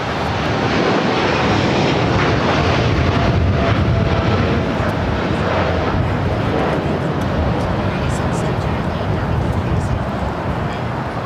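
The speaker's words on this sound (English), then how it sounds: "This is DHL, operated by Polar Air Cargo 789, taking off to Seoul on a 747-8 freighter." A Boeing 747-8 freighter, a Polar Air Cargo DHL flight, takes off at LAX with a loud, steady broadband engine roar that holds throughout, with faint voices underneath.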